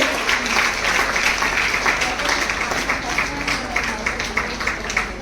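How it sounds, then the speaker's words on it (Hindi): An audience at a women's wing event of a railway workers' union in Nagpur claps for an honoree, a steady, fairly loud round of applause lasting throughout, with faint voices mixed in. "जोरदार तालियां हो जाए मीनाक्षी के लिए।"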